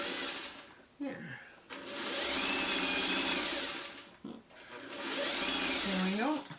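Sewing machine stitching traditional quilt blocks in two steady, loud, close runs of a few seconds each, separated by short pauses with handling noise and brief speech.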